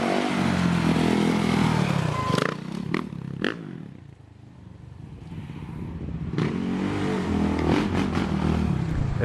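A 2015 Suzuki RM-Z450 dirt bike engine runs with a loud, steady rumble and a few sharp revs, dipping briefly around the middle before picking back up.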